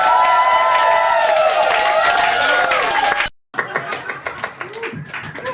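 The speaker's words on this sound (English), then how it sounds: "Don't be shy, share your applause" Musical tones fade out. After a short gap, an audience breaks into applause and scattered cheering, with loud, uneven claps and shouts close by.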